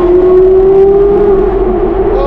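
Porsche Carrera GT V10 engine revving with the roof off, a loud, close, sustained high-pitched engine howl that holds steady throughout.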